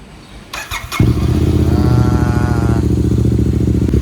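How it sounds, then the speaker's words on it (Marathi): A Royal Enfield GT650 motorcycle sitting on a bike stand cranks with a few clattering starter clicks, then fires and settles into a loud, steady twin-cylinder idle close by. "बाईक स्टँड लावला आहे तर गाडी चालू करू."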